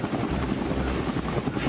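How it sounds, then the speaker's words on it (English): A transport helicopter aboard an amphibious assault ship gives off a loud, steady rotor and engine roar that fills the whole short stretch, with no voices. "This includes transport helicopters and Harrier vertical takeoff jets."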